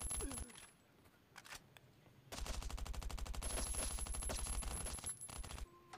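Submachine gun fire in the Last Day Rules Survival game comes as a short burst and then a long rapid stream of crisp close shots with mechanical clicks, fairly quiet overall.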